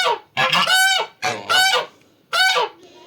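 Several loud, nasal domestic goose honks nearby, coming in three bursts with short gaps between them, with no talking.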